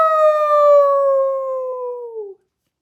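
A human voice imitates a wolf's loud howl during a children's story reading: one long, sustained howl that glides slowly downward in pitch and cuts off after about two seconds.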